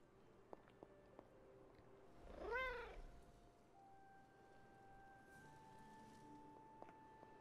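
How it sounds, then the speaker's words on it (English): A cat in Marvel's Midnight Suns video game gives a single clear, drawn-out meow midway through quiet game ambience, fairly close but soft. "Where's the cat? I just heard it."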